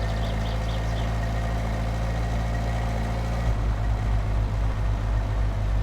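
A car engine idles in the driving game My Summer Car with a steady, low, close hum. Partway through it drops into a deeper, pulsing throb.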